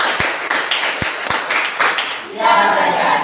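A classroom of students clapping together in a set pattern, a few sharp group claps with brief gaps between them, followed by a burst of voices.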